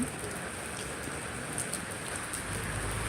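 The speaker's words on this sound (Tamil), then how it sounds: "இங்கே மழை சென்னையில் மழை பெஞ்சிட்டே இருக்குது" Steady rain falls in Chennai during the northeast monsoon at night, a dense, even hiss of drops without pause, fairly close and moderately loud, with no voices.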